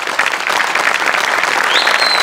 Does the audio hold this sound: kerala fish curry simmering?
no